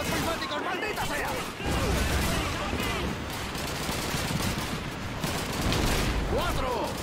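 Continuous gunfire and artillery in the PC game Call of Duty 2, a base defence battle: dense overlapping rifle and machine-gun bursts with booming impacts, loud and sustained throughout, with shouted game voices mixed in.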